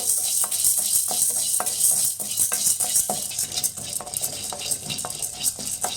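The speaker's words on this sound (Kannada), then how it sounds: "ಇದು ಗೋಲ್ಡನ್ ಬ್ರೌನ್ ಬರೋವರೆಗೂ ಫ್ರೈ ಮಾಡಬೇಕು." Chana dal fries in a hot pan for chitranna while a spoon stirs it, giving light repeated scrapes and clicks over a steady high sizzle.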